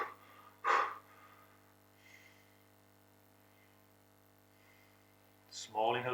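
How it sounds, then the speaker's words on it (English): Gentle nose breathing during freediving practice: a few small, soft sniffing inhalations and exhalations, close and quiet, with long near-silent gaps and a brief voice at the end. "go back to gentle, small nose breathing"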